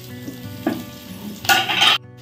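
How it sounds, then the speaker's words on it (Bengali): Potatoes frying in hot oil for khichuri, a low steady sizzle broken by short bursts of louder crackling as they are stirred, then a sudden stop, no voices. "খিচুড়ির আলুটা এখন ভাজা হচ্ছে"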